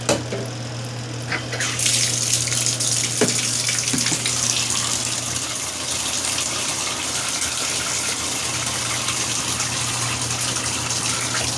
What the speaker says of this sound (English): So then you could just throw some more water in there.